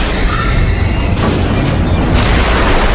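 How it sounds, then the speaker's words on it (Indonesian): A loud, dense rumbling crash roars continuously, heavy and booming like an elevator plummeting down its shaft and smashing, with no voices. "Lift itu pun meluncur jatuh"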